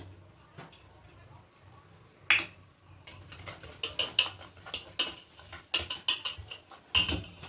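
A spoon clinks and scrapes against a bowl while dry ingredients for malai bora are stirred together, with irregular close taps that grow busier partway through.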